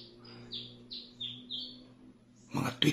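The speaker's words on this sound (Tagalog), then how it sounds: "Mga tweet-tweet ng ibon at huni ng manok." Several short bird chirps repeat at a steady pace for two seconds over a low constant hum, then a louder, noisier burst follows at the end, in a rural setting during Holy Week.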